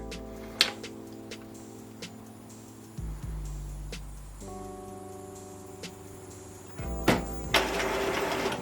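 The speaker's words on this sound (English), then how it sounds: "my printer realised what was going on slightly before and has set things in motion" An Epson WorkForce WF-2110W inkjet printer moving its cartridge cradle into position for a cartridge change: a low motor whir that shifts pitch in stages, with scattered ticks and clicks and a louder mechanical rattle near the end.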